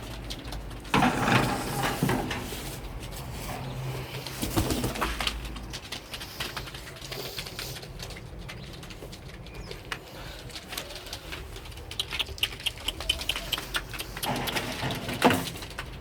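Soft pigeon coos drift in and out against an outdoor background hum on a balcony, with a few louder bursts near the start and end.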